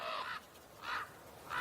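Crows caw raucously in Canadian woodland at dawn, three harsh, moderately loud calls spaced evenly apart with quiet gaps between.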